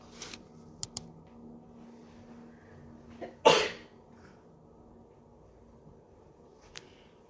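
A single sharp sneeze bursts out midway through an otherwise quiet stretch, with a few faint clicks and taps before and after it.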